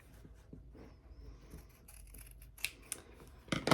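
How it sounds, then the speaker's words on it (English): Scissors cut small corner pieces of fabric along a chalk line, making soft, close snips that grow louder and quicker toward the end in a quiet room. "So I'm just going to cut each little corner piece right along the fabric chalk line."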